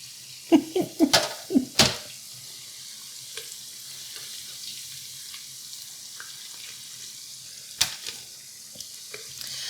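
Fresh cut french fries sizzle in hot oil with a soft, steady crackle, punctuated by a cluster of sharp metallic clinks early on and another near the end as the fries are handled.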